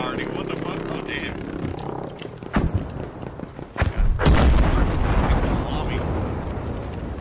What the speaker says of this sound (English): They popped a V1 and an arty.